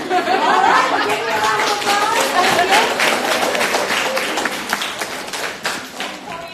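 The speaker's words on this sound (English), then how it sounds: "me a round of applause" Applause at a business brunch in New Orleans, a dense wash of clapping that holds steady throughout, with scattered voices and chatter mixed in beneath it.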